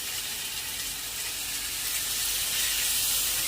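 Tomatoes tipped into onions frying in hot oil, a broad steady sizzle and hiss that swells slightly louder toward the end, continuous with no talking.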